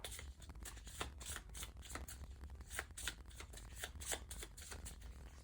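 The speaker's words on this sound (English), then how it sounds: "to shuffle this back into my deck" Playing cards for a Power Rangers: Heroes of the Grid card game are shuffled back into a deck, a quiet, close run of rapid riffling flutters and soft snaps repeating over several seconds.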